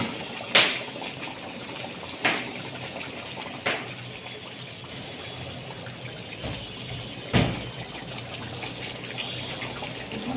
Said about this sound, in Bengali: আবার এক গ্লাস পানি ইউজ করছি, অল্প করে ইউজ করতে হবে এই পানিটার জন্য।